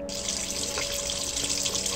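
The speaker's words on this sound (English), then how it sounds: "The water just turned on now." A sink tap in a Roblox game pours water in a steady, even hiss of running flow, continuous and moderately loud with no other sounds.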